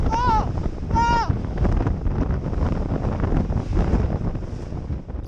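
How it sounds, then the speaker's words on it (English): Wind gusting and waves slapping around a boat on a rough, windy lake, a steady roaring wash across the whole clip, with two brief tonal squeals near the start. "you will be seeing just waves and upon waves"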